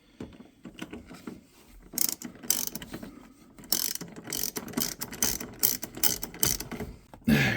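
A hand ratchet clicks rapidly in uneven bursts as it drives a factory seatbelt bolt back into a 1985 Pontiac Trans Am interior, close and crisp with brief pauses between strokes.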